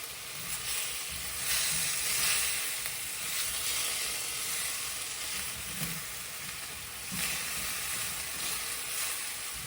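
Liquid sizzling and hissing in a hot pan as it is stirred to lift browned bits off the bottom, a steady close fizz with soft scraping swells from the spoon and no talking.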